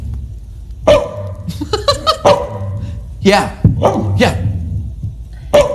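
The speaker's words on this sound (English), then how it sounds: "I actually have no idea what that dog just said." A dog gives a string of short barks, yips and whiny vocal sounds in irregular bursts, close and fairly loud, with people speaking briefly in between.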